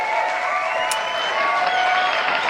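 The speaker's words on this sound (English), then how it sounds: "Yes, and the crowd goes wild." Steady applause and cheering from a crowd fill the moment with dense, continuous clapping noise at an even loudness, with no talk over it.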